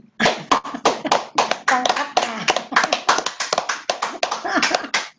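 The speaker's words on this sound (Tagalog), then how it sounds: "Palakpakan natin ng isang masigabong palakpakan ang pangkat A." A small group at a youth fellowship gathering claps steadily for several seconds, quick sharp hand claps in a loose rhythm, close by, with a faint voice mixed in.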